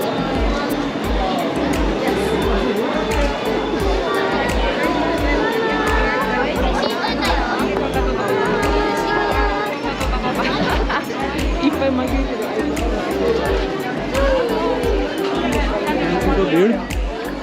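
A dense crowd of people at Senso-ji temple in Tokyo, loud continuous chatter and overlapping voices close around, with a steady rhythmic thumping underneath throughout.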